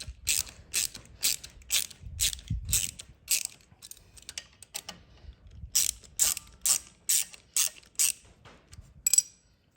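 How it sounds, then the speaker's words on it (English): A ratchet wrench backing out two 8mm bolts from the left side cover of a 2022 Honda CRF110F: bursts of rapid, crisp clicking, quiet pauses between, close and alone. "Our next step is to remove these two 8mm bolts from the left side cover here."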